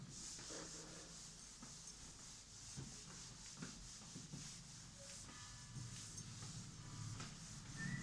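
Steady rubbing of an eraser or duster wiping writing off a board, a continuous close scrubbing with short rhythmic strokes and no talk.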